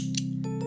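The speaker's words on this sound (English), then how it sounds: "I'm going to cut, you know how the miffy mouth has 2 cross? I'm just gonna cut out the 2 lines" Scissors cut black yarn for crochet work, giving two brief close snips over a steady low hum.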